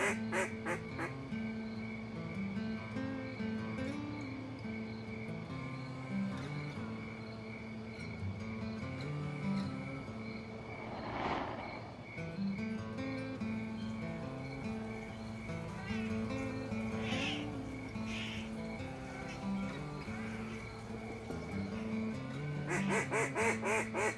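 Ducks quack and geese honk repeatedly at a duck and goose hunt, a busy outdoor chorus of calls overlapping throughout, with occasional louder bursts and faint background voices.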